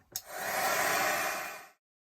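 A heat tool drying paint on an art journal page clicks on and blows with a steady whirring hiss for about a second and a half, then stops.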